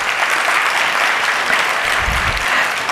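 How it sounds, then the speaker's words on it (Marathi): Loud, dense audience applause honoring a guru at a Bharatanatyam dance event, steady and sustained clapping from a crowd throughout. "आपण गुरूंना सन्मान करण्यासाठी सगळेजण एकदा जोरदार टाळ्या वाजवूयात"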